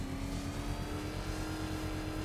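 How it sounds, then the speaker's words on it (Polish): The Batmobile's engine in the Batman: Arkham Knight video game revs gradually toward the red line, a steady, dense, loud roar that holds throughout with no pauses and no voices. "Powoli zwiększaj obroty, aż do poziomu czerwonej linii."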